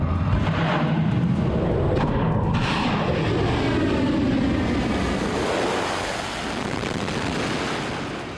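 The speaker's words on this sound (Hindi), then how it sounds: "फारस की खाड़ी में तैनात यूएसएस अब्राहम लिंकन से फाइटर जेट्स ने उड़ान भरी" Fighter jets launch from the aircraft carrier USS Abraham Lincoln in the Persian Gulf, a loud, sustained broadband roar that swells and then slowly fades toward the end, with wind rush and no speech.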